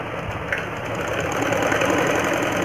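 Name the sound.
sewing machine stitching a straight seam on capri pants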